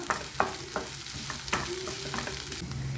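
A spatula stirs potatoes frying for a lady's finger and potato fry in a pan, scraping in scattered strokes over a steady close sizzle.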